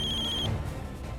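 A telephone trills with a bright, electronic ring for about half a second before cutting off, leaving a low hum of room noise behind.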